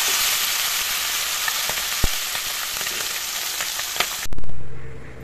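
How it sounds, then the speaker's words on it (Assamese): Small fish fry in hot oil in a pan, giving a dense, continuous sizzle with scattered pops and crackles, then a sudden clatter and a softer, fading hiss near the end. "সৰু মাছকেইটা গোটেইখিনি দি দিছোঁ একেলগে ফ্ৰাই হ'বলৈ"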